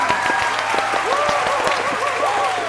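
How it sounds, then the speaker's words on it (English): An audience claps loudly and continuously in a dense, steady wash of applause for about three seconds, with a few voices rising through the clapping. "Everybody, clap."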